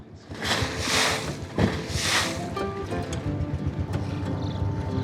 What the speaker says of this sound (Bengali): আমাদের ট্রলারটি তখন ঢেউয়ের তালে তালে দুলছিল